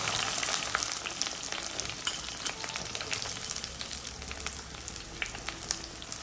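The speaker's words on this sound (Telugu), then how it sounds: "గుడ్లు ఇలాగ వేపేసుకున్న తర్వాత పచ్చిమిరపకాయలు ఉల్లిపాయలు వేసేసుకోండి" Onions and green chillies frying in a pan after eggs were fried for an okra and egg curry, a dense steady crackling sizzle with sharp pops, close and even, no talk.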